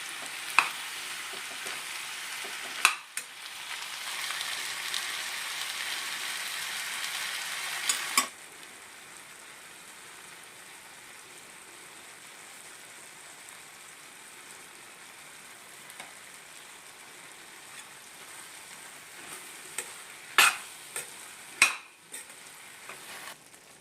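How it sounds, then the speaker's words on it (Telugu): A tomato, onion and potato curry sizzles steadily in a pan as it is stirred, louder for the first several seconds and then quieter, with a few sharp utensil clinks near the end. No one speaks. "ఇప్పుడు టమాటా వేసి మిక్స్ చేసుకుంటాను."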